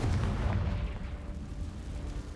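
A Confringo spell blast in Hogwarts Legacy, a single deep booming explosion that hits at once and rumbles away over about two seconds, no talk over it.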